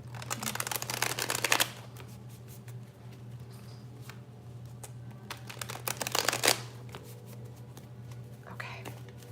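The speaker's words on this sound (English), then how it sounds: "I'm shuffling the cards for you." Tarot cards being shuffled in two bursts of quick riffling, close and crisp, with a low steady hum underneath and quiet murmuring between.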